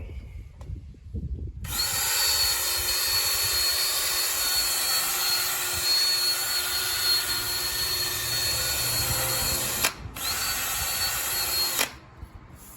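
A power drill runs steadily for about ten seconds while wet sanding a 2007 Toyota Camry Hybrid headlight with damp 3000-grit paper, starting abruptly, briefly cutting out near the end, then stopping; loud and close, with no talk.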